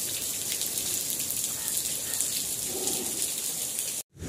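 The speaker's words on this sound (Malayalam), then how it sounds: "അപ്പം നല്ല മഴയൊക്കെ പെയ്യുന്നുണ്ട്" Heavy rain pours down along the NH66 roadworks at Randathani Moochikkal in Kerala as a dense, steady hiss. The downpour stays loud throughout, then cuts off abruptly just before the end.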